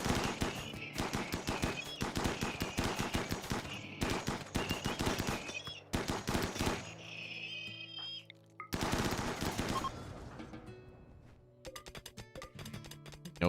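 Rapid bursts of automatic gunfire from gunners shooting at a Scyther in RimWorld, dense rattling volleys broken by brief pauses, then sparser sharp shots near the end, loud and with no talking.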